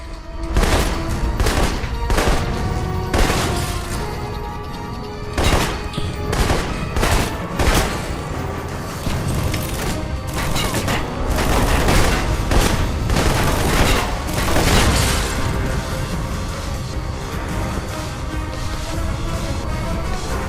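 Rapid bursts of turret gunfire from the Alpha Protocol video game, loud and continuous with dense repeated volleys and booming impacts over about twenty seconds, with no talking.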